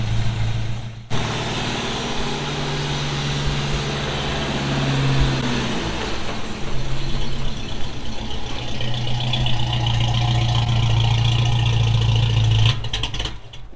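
A project car's engine, running on fuel injection, idles close by with a steady low hum, its pitch shifting briefly and then settling, with some mechanical clatter.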